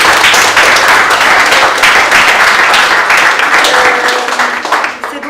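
Guests at an art exhibition opening for a painter applaud loudly and warmly, producing thick sustained clapping from a close crowd that fades slightly toward the end, with faint murmuring beneath.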